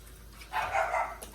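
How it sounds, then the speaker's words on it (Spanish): Barking from the speaker's pet dogs at home, several sharp barks clustered in the middle of the moment, moderately near with light background noise and no talking. "Disculpen que mis perros están ladrando"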